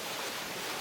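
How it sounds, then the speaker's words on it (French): Waterfall cascade beside a swimming pool, a loud, steady broadband rush of falling water filling the whole moment without break, close and constant with no voices over it. "c'est cette cascade là qui est en train de faire un bruit pas possible"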